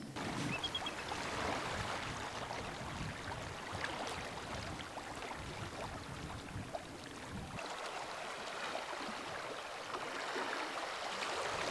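Tidal water rushes through Reversing Falls in Cobscook Bay, Maine, a continuous broad roar of moving water heard from an overlook, steady and fairly loud throughout.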